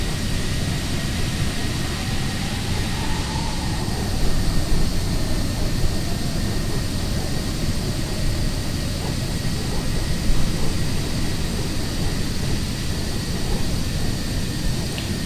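Jet engines of an Antonov An-225 in Microsoft Flight Simulator 2020 produce a loud, steady roaring drone heard from on board, constant and unbroken with no voices.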